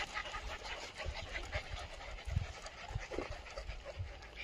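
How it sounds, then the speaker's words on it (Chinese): Several stray dogs at a shelter base pant rapidly and steadily up close while gathered around food, a quiet, breathy rhythm with faint whimpers. "又被狗狗包围了啊"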